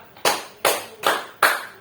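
A primary school class of fifth-graders claps a rhythm pattern together: four sharp, evenly spaced group claps, close and fairly loud, with no talking.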